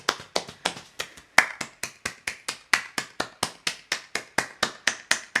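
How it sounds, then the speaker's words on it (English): Children in a school class clap their hands in a steady rhythmic beat, about three claps per second, each sharp and distinct, with no voices over them. "And then we're going to go back to our clapping with our hands."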